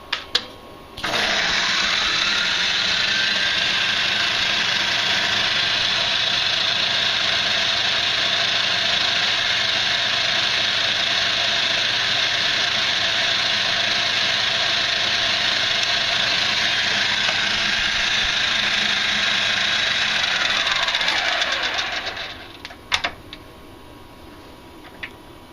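An X3 CNC mill spindle with a 5600 RPM modification runs steadily in low gear, a close, continuous whirring machine drone holding even for about twenty seconds before winding down and stopping.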